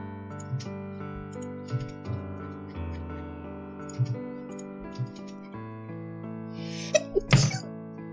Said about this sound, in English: I sneeze so hard my headphones fall out.